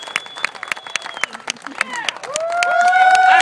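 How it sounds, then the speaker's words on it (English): Applause and cheering rise from an audience at an award ceremony, with scattered claps early on building into steady, loud clapping and whooping voices, all close by and dense. "Give them all a big round of applause"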